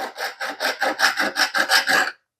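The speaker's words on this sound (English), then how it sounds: "You just hit it with this file, put it at a 45-degree angle, run it across there a couple times." A metal file is drawn back and forth across neon glass tubing at an angle to score it, making about ten rhythmic rasping strokes close up, evenly spaced and fairly loud, then stopping abruptly.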